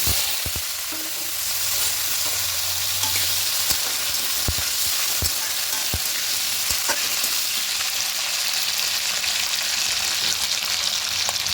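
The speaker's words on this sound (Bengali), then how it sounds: "এবার এখানে কেটে রাখা আলুগুলো দিয়ে দেবো" Hot oil sizzles and crackles steadily as cut potatoes fry, with occasional sharp pops and a few clinks of a utensil stirring the pan; no one speaks.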